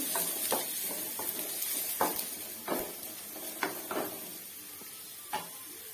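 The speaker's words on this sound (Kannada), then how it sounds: "ಈರುಳ್ಳಿ ಫ್ರೈ ಆಗಿದೆ" Onions fry in a pan with a faint, constant sizzle, broken by several distinct scraping stirs spaced unevenly throughout.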